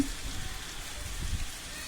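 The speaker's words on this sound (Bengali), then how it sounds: "বৈরী আবহাওয়া চলছে, চারিদিকে বৃষ্টি হচ্ছে আর কি," Rain falls steadily at night during Cyclone Remal, a soft, even hiss of drops with low rumbling underneath, heard alone without any talk.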